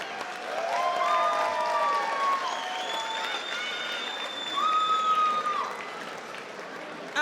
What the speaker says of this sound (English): Ladies and gentlemen, a round of applause for these 2 warriors.